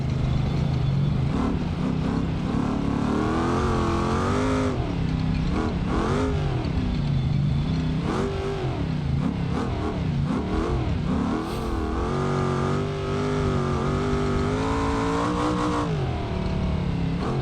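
A truck engine in BeamNG.Drive, driven on a Johnson Valley time-trial course, revs loudly and continuously, its pitch climbing and dropping with repeated throttle surges and gear changes, close and steady throughout with no voices.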